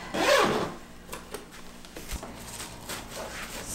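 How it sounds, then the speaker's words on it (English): A zipper is pulled shut on the rear storage compartment of a Hamax two-seater bike trailer, one loud rasping zip up close followed by softer rubbing and fabric handling noises. "Zip it up."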